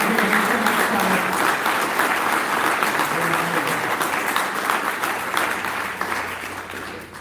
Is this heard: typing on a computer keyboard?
no